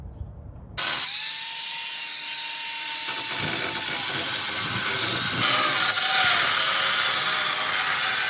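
A handheld power tool cuts freehand through a steel sill piece during a Beetle body swap onto a BMW Z3 chassis. The loud, steady whine starts abruptly and runs unbroken with shifting pitch.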